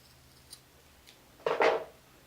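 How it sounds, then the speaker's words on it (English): Scissors snip through knitting yarn as the working strand is cut, one quick close crunching cut after a couple of faint taps, with no talking. "now we're going to cut the working yarn"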